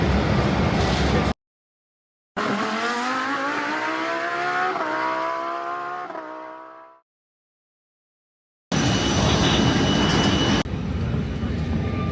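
Engine noise inside an airplane cabin builds into a rising, tonal whine that holds for a few seconds and then fades away, framed by bursts of broadband rumble and stretches of silence.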